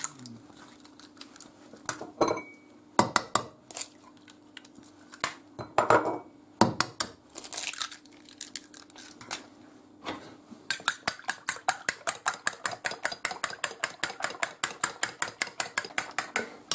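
Eggs whisked briskly in a bowl for torrijas: scattered clinks and taps at first, then a fast, steady run of rhythmic beating strokes close by, with no talk.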